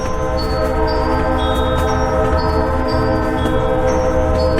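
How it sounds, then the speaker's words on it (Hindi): A haunted train in an animated horror story rolls along slowly with a loud, constant rumble, and thin high whistle-like tones sound on and off above it. "पर ट्रेन स्लो चल रही है, इसलिए हम ट्रेन को पकड़ लेते हैं।"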